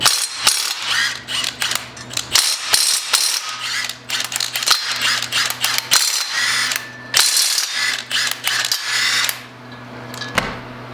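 Hand ratchet loosening flex plate bolts on a supercharged 6.0 LQ9 LS engine, heard as repeated close, loud bursts of rapid clicking separated by short pauses, with no talk.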